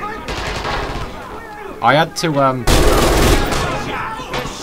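MG 42 machine gun firing in the video game Red Orchestra 2, loud rapid bursts of automatic fire with a brief pause in the middle where a voice speaks, then a sustained burst to the end.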